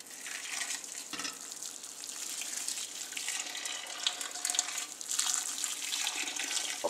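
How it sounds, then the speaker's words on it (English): Warm water pours steadily into a pot of split pea soup holding onions and a pork hock, a continuous close splashing rush that lasts several seconds. "now I'm going to add some warm water to it."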